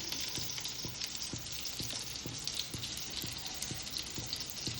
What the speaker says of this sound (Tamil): இது கத்திரிக்காய் வந்து கொஞ்சம் தனியாக தான் வதக்கி போட போகிறேன்